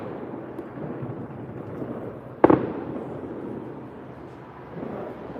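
A single sharp July 4th firework bang bursts out of a low rumbling background of distant crackle and booms, with no speech heard.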